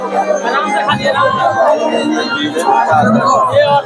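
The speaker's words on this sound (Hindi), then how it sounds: "एतेक ज्यादा भीड़ छै, एतेक ज्यादा भीड़ छै" A dense crowd at a Durga Puja celebration in Nangloi, Delhi: constant close chatter and babble of many voices filling the space, steady and loud throughout.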